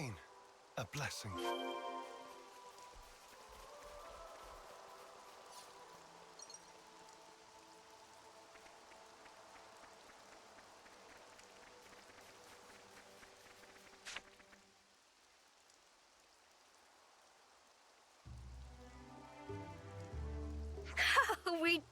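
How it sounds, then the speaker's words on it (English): Rain in Xenoblade Chronicles 3, a faint, steady patter of drops under soft game music, fading out before other game sounds return. "Rain, a blessing."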